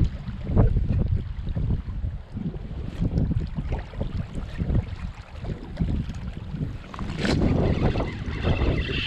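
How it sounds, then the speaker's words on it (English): Strong wind buffets an inshore fishing boat near Charleston, South Carolina, a continuous loud roaring rumble with gusting swells and water slapping against the hull, with no talking. "The wind is still blowing. I think it's getting worse, honestly."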